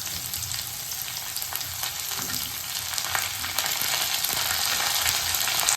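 Garlic sizzles steadily in a pan for okra bhaji (bhendi chi bhaji), a dense continuous frying hiss that swells slightly louder toward the end, with no voices.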